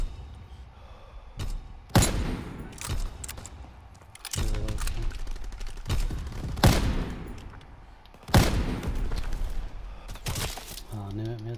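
PTRS anti-tank rifle firing in a WW2 video game, loud sharp booming shots spaced a couple of seconds apart, about five in sequence, with game noise and a voice talking between them.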